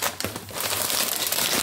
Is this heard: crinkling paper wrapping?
yes